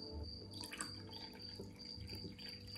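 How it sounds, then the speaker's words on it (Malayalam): Freshly tapped traditional coconut toddy trickles into a glass at home, a faint, steady liquid pour with soft dripping through the whole stretch. "നമുക്ക് ആദ്യമേ ഗ്ലാസ്സിലോട്ട് ഒഴിക്കാം."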